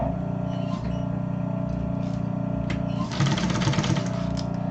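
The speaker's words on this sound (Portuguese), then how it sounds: "E vou passar uma costurinha de segurança bem na beiradinha." Sewing machine running steadily, stitching a safety seam close to the edge of a double cosmetic travel case, with a brief faster burst of stitching near the end; close and continuous with no talking.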